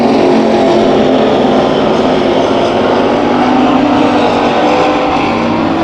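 Hobby stock race cars roar around the dirt oval at Bakersfield Speedway during a heat race, a loud, unbroken wall of engine noise without any commentary over it.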